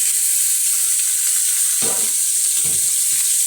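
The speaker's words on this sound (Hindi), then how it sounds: "प्याज थोड़ी हल्की फ्राई हो जाए" Onion fries in a pan for a pumpkin curry, with a steady loud sizzle throughout and a few dull stirring knocks near the end. No one speaks.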